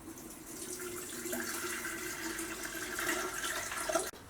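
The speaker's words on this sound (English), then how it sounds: "let's add some more water to the kettle" Tap water pours steadily into a kettle in a home kitchen, a soft, continuous running stream with a faint hollow ring that cuts off abruptly near the end.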